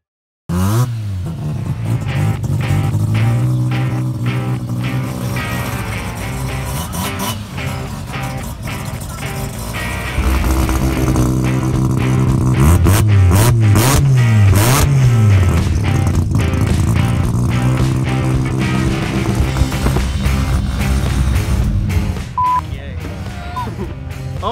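Rotary-engined drag race car at a drag challenge race day, a buzzing high-revving engine that rises and falls in pitch through repeated gear changes, loud and close, with some voices.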